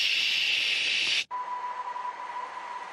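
A steady, bright shushing white noise heard from a dead cell holds evenly, cuts out abruptly, then returns as a softer hiss with a faint steady tone.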